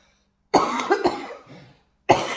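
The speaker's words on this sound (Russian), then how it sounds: "Кто там кашляет?" A person coughs indoors in a home, a short burst of two or three harsh coughs, then another cough after a brief pause, fairly close and loud.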